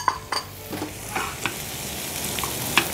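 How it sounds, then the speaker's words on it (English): Eggs being whisked in a bowl for a French omelette, a series of brief clinking strokes at an uneven rhythm, close and moderately loud, with no talking. "Coco hears me whisking eggs"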